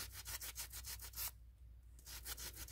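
Rhythmic back-and-forth sanding strokes on a slightly damp ceramic resin craft piece, quick and regular, pausing briefly in the middle before resuming; quiet and close with no talking.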